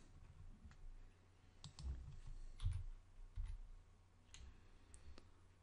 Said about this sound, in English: start typing your first ingredient